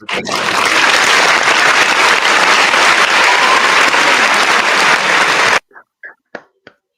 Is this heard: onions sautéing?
no